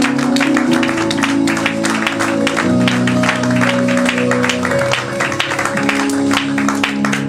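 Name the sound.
congregation applauding and cheering in church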